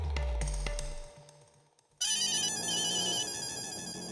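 A telephone rings loudly in an indoor domestic scene, a repeating electronic ringtone that starts abruptly after a short lull and continues steadily with no one talking over it.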